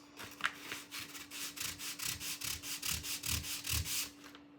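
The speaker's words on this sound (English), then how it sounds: "I need to sand the little divots." Wood is sanded by hand to smooth small divots, about a dozen quick rhythmic rubbing strokes, close and soft with no talk.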